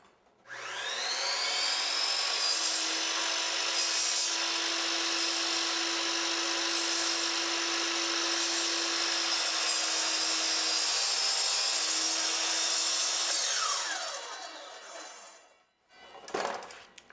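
A power saw whines loud and close in one long sustained cut, cutting a cope along a beveled miter on baseboard trim, then winds down, with a brief clatter after.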